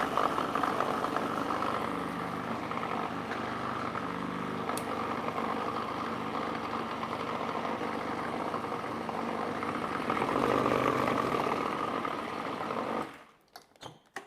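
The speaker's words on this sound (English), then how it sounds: "Now I'm going to blend that first and it'll become smooth." A kitchen blender whirs steadily for about thirteen seconds, smoothing 250 grams of low-fat cottage cheese, a loud motor drone with slight surges before it stops abruptly.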